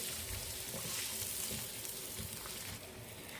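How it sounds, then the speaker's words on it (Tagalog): Garlic and onion sautéing in a pan for a seafood boil, a continuous close sizzle and crackle with faint stirring, easing slightly toward the end. "Then, igisa lang natin yan."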